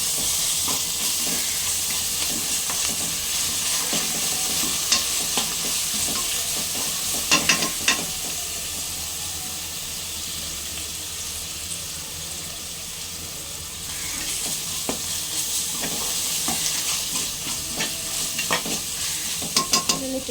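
Ginger garlic paste with onions frying in a pan for a Telugu gongura goat tripe curry, with a steady close sizzle and hiss and occasional stirring scrapes, no voices.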